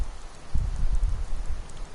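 Steady rain in Skyrim, a close patter of drops on surfaces with a low rumbling body, continuous and fairly loud with no speech.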